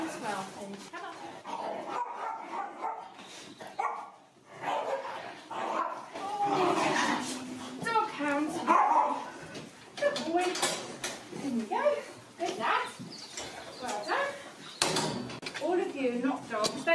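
Pack of working beagle hounds being called through a kennel, with barks and yelps breaking out among a person's calls and talk, plus clanks of doors or gates nearby.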